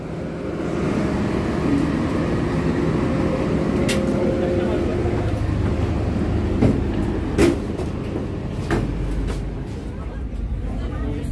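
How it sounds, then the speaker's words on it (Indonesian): Motis Selatan train departing Kiara Condong station in Indonesia: a steady rumble of rolling rail cars with a low engine drone and a few sharp clanks and squeals, close and continuous for the whole stretch, with people talking faintly nearby. "Kereta api Motis Selatan diberangkatkan dari stasiun Kiara Condong tepat pada pukul 16:50"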